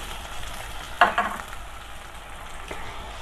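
Onions frying in a pan for a tinda and chana dal dish, a steady low sizzle with one brief louder crackle or stir partway through, no talking.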